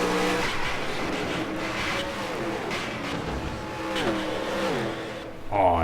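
Race cars in the NASCAR Racing 2003 video game roar past in a dense, continuous engine drone with rising and falling pitches as several cars pass close by, ending with a sharp high whine.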